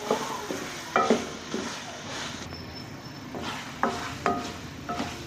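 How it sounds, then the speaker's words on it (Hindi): Soft scraping and clinking of a spoon stirring boiled potatoes frying in a pan for aloo matar, in irregular strokes, over a faint steady sizzle. "ये आलूओं को हमने कुछ भून लिया इसके अंदर सब्ज़ी में।"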